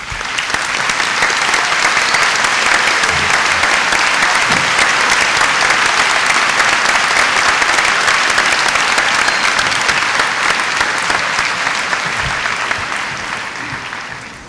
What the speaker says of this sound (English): ask you to give him a round of applause